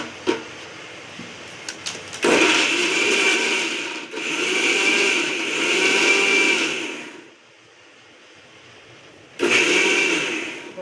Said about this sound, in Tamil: இப்போ நம்ம மிக்சி ஜாரில் அரைச்சிக்கலாம்.